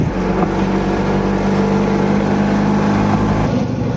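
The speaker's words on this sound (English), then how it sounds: "we're going on a ride in the Cinquecento" Fiat 500 Cinquecento driving through a medieval old town, a steady low engine drone with road rumble held continuously and fairly loud, with no voices over it.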